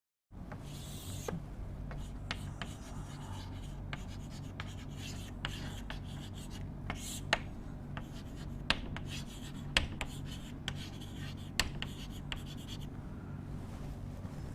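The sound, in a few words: writing by hand during a lecture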